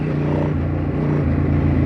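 A 2003 Ducati Monster 916 S4 engine roars loud and near in a steady, throaty drone with slight pulsing, heard alone without any talking.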